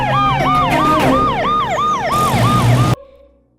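An ambulance siren wails in a rapid rising-and-falling cycle, loud and close, with traffic rumble beneath, then cuts off abruptly near the end, leaving faint background noise.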